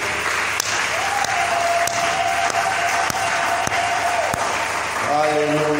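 A church worship congregation applauds and cheers with continuous, dense clapping that holds steady throughout, as a sustained voice rises over it briefly near the end.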